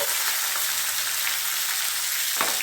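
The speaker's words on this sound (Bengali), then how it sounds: "সবজিগুলোকে একটু ভেজে নেব" Mixed vegetables including beans, carrots, drumsticks and eggplant sizzle and crackle steadily in a hot pan, a soft continuous frying hiss with small pops and one brief stir near the end.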